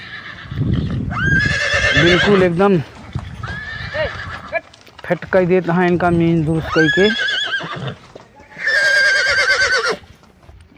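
Racehorses at a horse race in Uttar Pradesh whinny loudly in several long neighs, with hoof clip-clop and people talking in the background.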